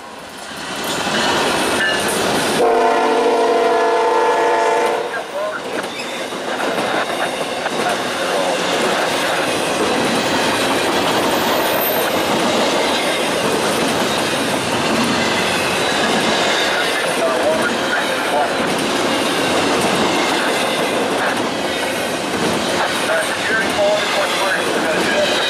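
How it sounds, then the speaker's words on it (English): An eastbound intermodal freight train led by a couple of GE Evolution locomotives rolls past on the Chicago Line near Toledo, a loud, steady rumble of wheels and cars with squealing and rhythmic clacking, a horn-like tone early on. "it's an intermodal heading eastbound with a couple"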